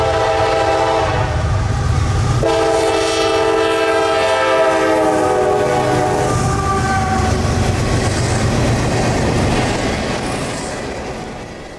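A CSX freight train rolls through Central Florida's Bone Valley phosphate mining region, loud and close, with a sustained horn blast over rumbling wheels and rail noise that slowly fades toward the end.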